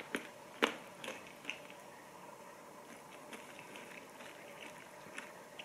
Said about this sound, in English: It's popping in my mouth.